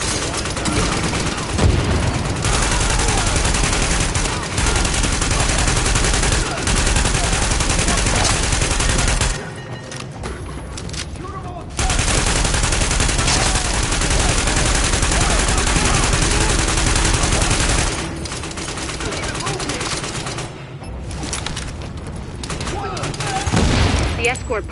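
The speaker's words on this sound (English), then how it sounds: "The escort party's taking heavy fire from the roof." Dense video-game gunfire on a PS4 shooter roars in sustained automatic bursts with booming impacts, dropping briefly twice before resuming; loud, with game voices mixed in.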